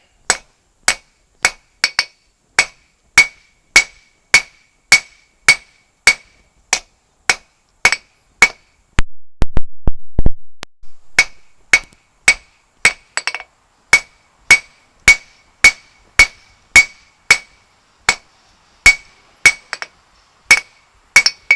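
Hot steel about a quarter inch thick is hammered on an anvil at a forge, with sharp, ringing metallic blows in a regular rhythm, close and loud, broken once by a brief rumbling noise before the strikes resume.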